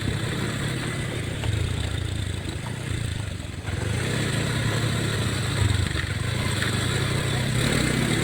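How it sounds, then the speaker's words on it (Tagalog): A motorcycle engine strains steadily up a rocky dirt road toward Balanan Lake, a close, continuous low rumble with rough clatter and slight surges in effort throughout. "Lumalaban gahapon ang motor ni Mega"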